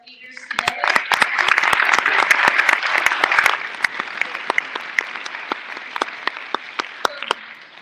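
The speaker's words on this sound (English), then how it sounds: "let's give one last big round of applause for all of our speakers today." An event crowd applauds the day's speakers, a steady mass of clapping that swells early then thins into scattered, sharper individual claps toward the end.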